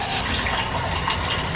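Sago being rinsed in water from a storage tank, a close, steady rush of running and splashing water that continues without a break.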